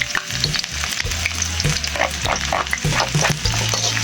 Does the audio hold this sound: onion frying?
yes